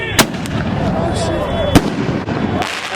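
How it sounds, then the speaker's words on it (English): Fireworks set off at a New Year's car meet burst in two sharp, loud cracks at close range, spaced over a few seconds, with a steady background of crowd noise and voices around them. "You know it ain't a New Year's without the fireworks."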